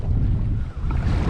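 Wind gusting over open water during kayak fishing near Boca Grande, a loud, close rumbling buffet across the whole short moment with a brief dip midway.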